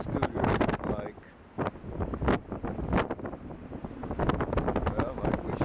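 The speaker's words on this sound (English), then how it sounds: "Very windy." Strong gusty wind buffets the microphone outdoors at an apartment complex in heavy, uneven bursts, with brief lulls between the roaring gusts.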